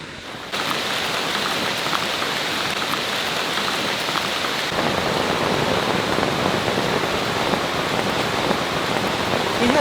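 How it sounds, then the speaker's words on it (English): Steady heavy rain falls in a Florida rainforest, a dense continuous hiss of drops on leaves and surfaces that thickens after a few seconds and carries on unbroken. "It started raining again as soon as he got back to his shelter."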